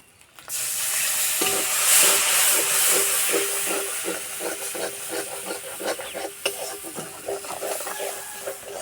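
Ground cumin, chili and turmeric fry in a pan with a splash of water, giving a steady bubbling hiss and sizzle over faint intermittent stirring clicks.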